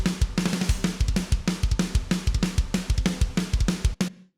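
Drum kit from the free version of the KRIMH drum library playing a fast, tight metal groove with punchy kick and snare hits and cymbals, loud and steady before stopping abruptly.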